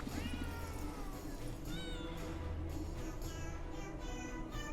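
Kittens in the video game Potionomics meowing repeatedly, several overlapping high mews over a steady game music bed, close and clear with no talking.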